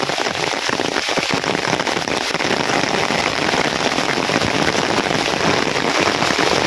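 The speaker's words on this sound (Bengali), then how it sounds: "জমছে বৃষ্টি নামছে" Heavy rain pours down steadily in a village during the rainy season, with water pooling and rising toward flooding, making a dense, continuous roar with no break and no voices.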